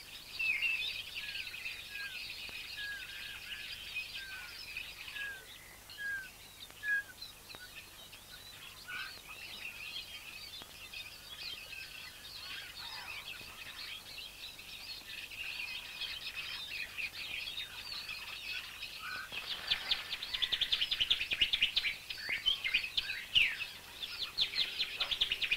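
Trained decoy birds, chiefly chaffinches, calling at a traditional Italian bird-catching site: a series of short repeated chirps early on, then scattered calls, with a busier, louder burst of song near the end.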